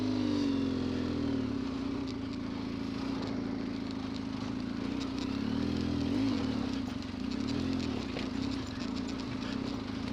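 An off-road motorcycle engine revs and strains steadily at close range while overheating, its low drone continuous throughout.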